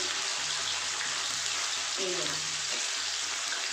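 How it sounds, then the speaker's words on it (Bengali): Paneer frying plainly, without spices, in a pan: a steady, broad sizzle holds throughout, with a faint voice murmuring briefly in the middle. "মশলা দিইনি আমি এমনি সিম্পল ভেজে দিচ্ছি পনিরগুলোকে"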